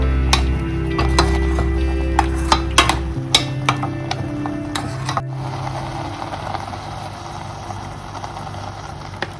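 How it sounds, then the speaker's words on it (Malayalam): Pineapple pachadi with ground paste added is stirred in a pot, giving scattered light utensil clicks and taps over a steady low hum, with no talking. "നമുക്കിതൊന്ന് മിക്സ് ചെയ്ത് വെക്കാം."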